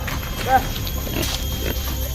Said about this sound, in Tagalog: Dadali na natin yung mga baboy na yan sa bahay.